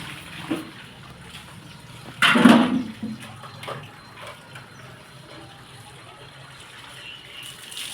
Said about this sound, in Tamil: பைப் தண்ணி பார்த்தீங்களா எவ்வளோ போர்ஸாக வருதுன்ட்டு?